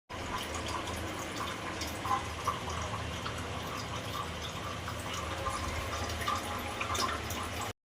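Rain drips and splashes steadily through a stormy downpour, forming a continuous close wash of patter with scattered sharper drops and no speech.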